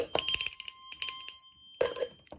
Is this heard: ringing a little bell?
yes